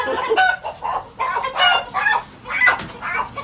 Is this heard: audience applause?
no